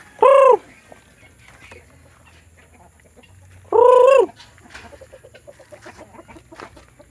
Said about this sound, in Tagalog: Oh, yung manok natin nakawala.